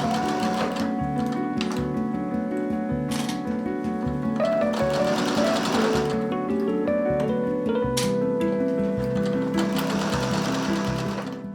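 A sewing machine runs in steady, close-up bursts as it stitches bias tape onto a piece of clothing, its rapid mechanical chatter pausing briefly between runs and starting again.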